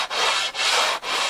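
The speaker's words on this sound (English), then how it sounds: "There's still life in this sandpaper." Sandpaper rubs by hand across a bass guitar fretboard in three long, even rasping strokes with short gaps between them, close and clear with nothing else heard.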